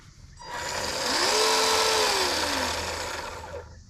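Small 20-turn 390 brushed electric motor in a 1/12 MN86KS Mercedes G 500 hard-body RC car, whining as it spins up under throttle, peaking and then winding down, close and loud with no talk.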